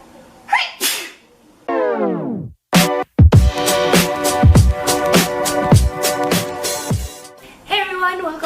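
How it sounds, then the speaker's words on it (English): A woman sneezes several times in close succession, loud and near, each burst with a sharp intake and explosive release, with tonal breathy sounds between them. "I have to sneeze, sorry."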